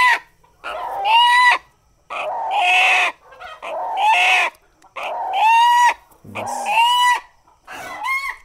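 Farm chickens being caught by hand for vaccination squawk and cluck loudly in six or seven separate bursts, close and with short pauses between them, and no one speaks.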